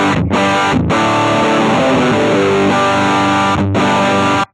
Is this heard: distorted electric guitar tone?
yes